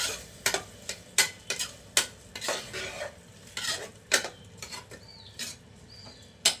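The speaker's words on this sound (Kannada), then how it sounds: "ಅಕ್ಕಿ ಹಾಕಿದ್ಮೇಲೆ ಒಂದು 2 ನಿಮಿಷ ಅದನ್ನು ಮಿಕ್ಸ್ ಮಾಡ್ಕೊಳ್ಳಿ." A spoon scrapes and knocks against a pan as rice is stirred for tomato pulao, roughly a dozen sharp, evenly spaced metallic clinks over a soft sizzle, close and fairly quiet, with no voices.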